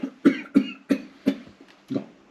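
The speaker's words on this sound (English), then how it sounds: "I'm coughing" A series of five or six sharp coughs in quick succession, close to the microphone, with brief pauses between them.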